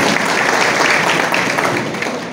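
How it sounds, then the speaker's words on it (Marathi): Audience applause at a credit cooperative society's annual general meeting, a dense, steady wash of many hands clapping together, loud and sustained with no pauses. "एकदा जोरदार टाळ्या वाजवूया"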